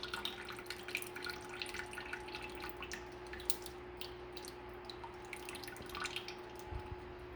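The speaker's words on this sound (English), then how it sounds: "I usually let it just drain out the majority of the water" Water drips and trickles as fresh tofu curds made with nigari drain, a faint, steady patter of small drops with a constant low hum behind it.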